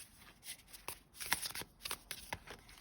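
Tarot cards being shuffled up close, a rapid series of soft, crisp riffling flutters and slaps with no voices.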